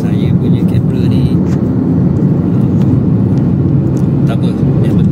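A Proton Saga 1.5 automatic cruising in top gear at about 90 km/h and 2,300 rpm fills the cabin with a steady, loud low rumble and road drone that stays even throughout.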